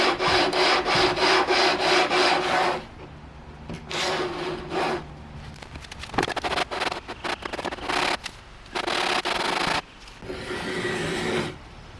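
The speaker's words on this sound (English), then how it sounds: "now I'm gonna sand with a sanding beam" A guitar neck being sanded with a sanding beam to remove about a millimetre from each side of the fretboard edges, heard as steady rhythmic rasping strokes of abrasive on wood, up close and loud, with short pauses between bursts.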